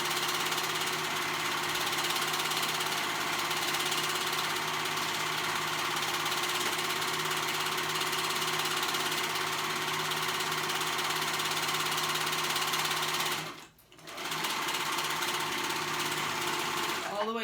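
A sewing machine stitching both fabric layers of a dress runs in a steady, continuous whirring drone, with one brief pause near the end before it starts again.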